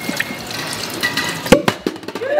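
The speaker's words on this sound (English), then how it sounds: "one person needs to pour the hot water" Hot water poured over a glass bottle to crack it, with splashing, trickling and dripping against the glass and a few sharper clinks and taps, close and fairly loud with no voices.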